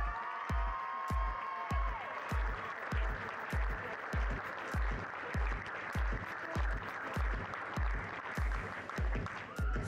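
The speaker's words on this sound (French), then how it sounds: "je vous demanderai de les applaudir bien fort car ils le méritent" Audience clapping loudly at a show-jumping club team prize ceremony, honouring the medal winners: dense, sustained applause with a steady rhythmic beat of clapping running throughout, crowd-wide and close.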